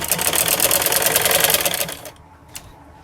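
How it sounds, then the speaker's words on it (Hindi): Sewing machine running a straight seam on kurti fabric: a fast, steady rattling whir close by for about two seconds, then it stops abruptly and one faint click follows. "इसके ऊपर हम सीधी सिलाई लगाएंगे"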